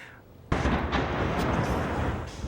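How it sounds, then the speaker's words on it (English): A blast at a storage building on a U.S. Army post near Tokyo hits suddenly with a loud boom, followed by a sustained heavy roar of fire and rumbling that stays strong to the end. "A witness captured this video on the blast and the fire that followed."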